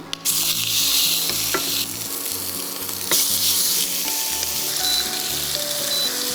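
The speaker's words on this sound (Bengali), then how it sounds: "এখন হচ্ছে আমি চিকেনগুলো দিয়ে দিব।" Chicken pieces sizzle and fry loudly in a hot pan with whole spices (cinnamon, cardamom, cloves) for chicken rendang, with steady crackling and occasional stirring scrapes throughout, no talking.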